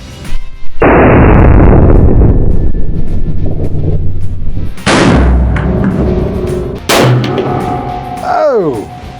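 .50 BMG rifle fired outdoors during an exotic hunt in Texas: one very loud, close boom followed by a long rumbling roll, then a second sharp crack and later a third, with wind buffeting the microphone throughout.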